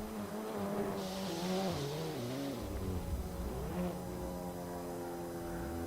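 Race cars in a sim racing game circuit after the finish at Brands Hatch GP, several engines droning and rising and falling in pitch as cars cruise around, fairly quiet and continuous without talk.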